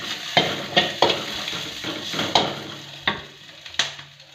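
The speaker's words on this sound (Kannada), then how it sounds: "ಚೆನ್ನಾಗಿ ಹುರ್ಕೊಳ್ಳಿ." Green chillies frying in a pan for a sabbakshi soppu dish, a soft sizzle punctuated by repeated sharp spatula strikes and scrapes at an uneven rhythm, close and clear.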